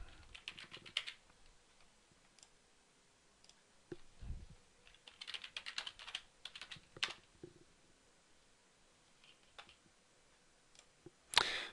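Someone types on a computer keyboard to sign in, with quiet bursts of rapid key taps separated by pauses and a louder final keystroke.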